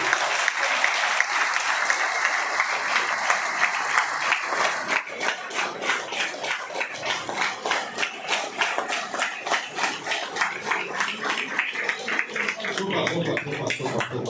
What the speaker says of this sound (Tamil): இந்த 3 பேருக்கும் ஒரு பலத்த கைத்தட்டலை நீங்கள் பார்த்து.